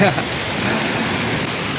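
Rain falls outdoors as a steady, dense hiss, loud and unbroken, with a brief voice at the very start.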